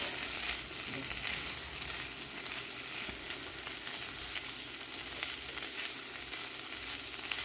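Food frying in a pan while being mixed, a soft continuous sizzle with faint stirring scrapes throughout, fairly quiet and without talk.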